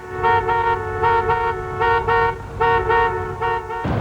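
Car horn honked repeatedly in a traffic jam during a protest, sounding as a rhythmic series of loud toots, roughly six bursts in a musical pattern, ending with a low thump.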